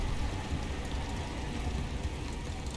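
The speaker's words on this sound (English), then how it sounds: "A literal thunderstorm." Steady, dense hiss of hail and rain pours down during a thunderstorm in the video game Subnautica Below Zero. It is even and continuous, with no distinct thunder claps.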